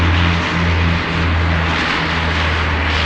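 An airplane taxis on an airport taxiway, its engine droning as a loud, steady hum with a low tonal throb and a faint rise and fall, with no voices.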